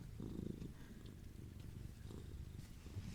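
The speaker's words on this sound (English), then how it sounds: "a cat in my lap" Cat lying in a lap purrs softly and steadily close up, a low rumbling pulse that rises and falls with each breath in an otherwise quiet room.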